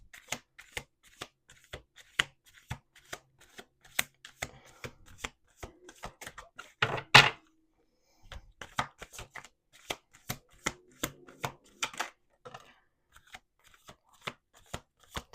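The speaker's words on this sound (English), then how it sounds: "This is me shuffling in real time." Playing cards shuffled repeatedly at close range, a steady run of crisp riffling bursts with a brief louder clatter midway and a short pause after, no talking.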